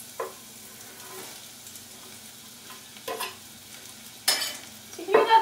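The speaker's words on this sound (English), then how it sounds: "To hear that start to sizzle just a little bit as I throw them in" Onions sizzle in hot oil in a few short bursts, with stirring and clinking of a utensil in a pan, close and fairly quiet.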